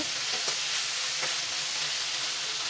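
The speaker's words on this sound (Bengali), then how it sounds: "মাংসটা ভেজে নেব খুব বেশি একটা ভাজবো না মোটামুটি একটু ব্রাউন কালার কিছু কিছু মাংস একটু ব্রাউন কালার আসা পর্যন্ত ভেজে নেব" Chicken meat frying in a pan, a loud, dense continuous sizzle close up with faint stirring clicks underneath.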